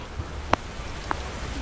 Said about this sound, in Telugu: ఇప్పుడు వర్షం పడుతుందిరా.